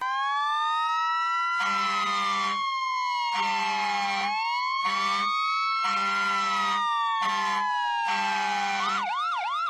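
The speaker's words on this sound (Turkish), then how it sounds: "Polis arabası gibi siren sesi olan bir başka aracımız ambulanstır." Ambulance siren wailing in rising and falling sweeps, loud and close, with a steady horn-like tone pulsing in bursts beneath it and a quicker yelp pattern at the end.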